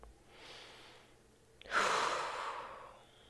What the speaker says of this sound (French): prendre une grande et profonde inspiration